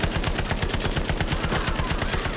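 Sustained rapid automatic fire from a Type 11 light machine gun in the World War II shooter Battlefield V, a loud, steady stream of evenly spaced shots with no talk over it.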